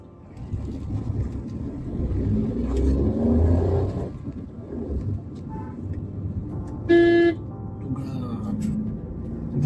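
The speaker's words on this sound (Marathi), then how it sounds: "रस्त्यामध्ये ट्रॅफिक जाम झाल्यामुळे गाडी 10-15 मिनिटापासून" On a mountain pilgrimage road in a traffic jam, car engines idle and rev while a short horn toot sounds from nearby, with people talking throughout.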